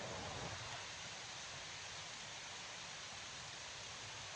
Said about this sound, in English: I'm literally surrounded by water sounds